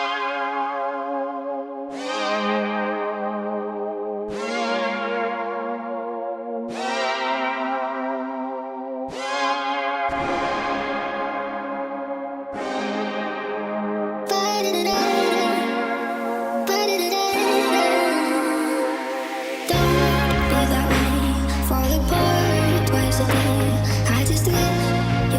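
A bell-like chord synth preset from FL Studio plays a run of struck chords that each ring out and decay. Later chords turn thicker and more distorted, and a low bass layer enters near the end.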